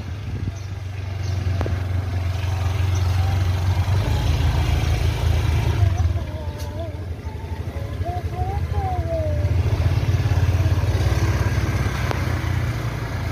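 Steady engine drone of a motorbike running nearby, rising and falling slightly in intensity, with faint voices in the background.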